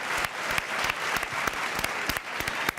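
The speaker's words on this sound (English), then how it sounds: "Round of applause for Rafinha and for Ronald Araujo." Applause for Barça players Rafinha and Ronald Araujo as they are substituted off: a few nearby hands clap sharply and rhythmically over a wash of distant crowd applause, with no talking.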